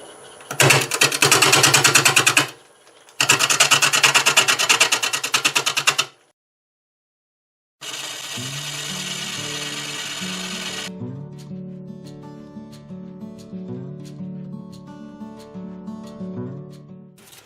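A maple burl with a spiky natural edge spins on a wood lathe at about 575 RPM while a tool scrapes it, giving loud bursts of rough rubbing cut by pauses, then a steadier lower hum with faint ticks.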